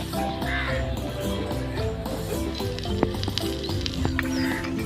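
Rice fries in ghee in a pan with a soft steady sizzle, broken by occasional light taps and scrapes of utensils, as a voice speaks intermittently nearby.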